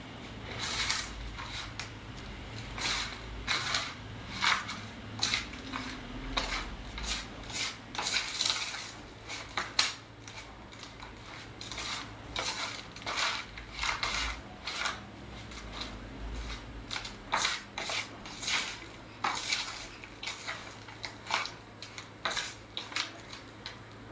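Potting soil and neem powder for a ZZ plant are stirred and mixed, giving repeated soft gritty scrapes and rustles with uneven rhythm, quiet and close.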